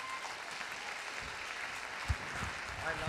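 A church congregation claps after a pastor is honoured, a steady broad wash of hand claps at moderate level with a brief louder knock near the end, and no voices clear above it.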